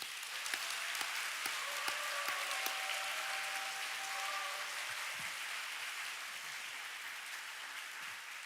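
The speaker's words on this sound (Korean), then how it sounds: "그러니까 박수해 주세요." A church congregation claps together at a late-night Friday prayer service, a sustained, dense, even round of applause lasting the whole clip at moderate distance.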